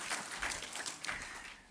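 Scattered applause from the audience at a kavi sammelan poetry gathering, a brief patch of uneven hand claps heard at moderate distance without any talking.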